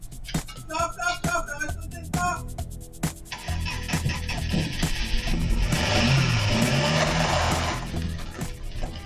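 A car engine cranks and sputters repeatedly, struggling without catching, then a loud sustained rumbling noise swells in the middle before fading back to intermittent clatter.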